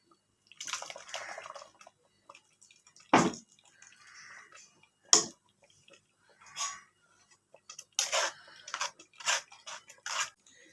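Coconut milk strained and poured into a pot, giving bursts of liquid splashing and trickling with a couple of sharp clinks from the utensils, heard close up with no talk.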